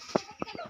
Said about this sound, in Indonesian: Ya ana ayam.